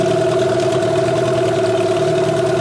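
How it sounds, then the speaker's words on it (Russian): A Parsun 15 hp outboard motor on an Adventure 320 boat idles at about 1000 rpm, a loud steady drone with a constant humming tone and no speech. "Мотор Парсун, 15 лошадиных сил."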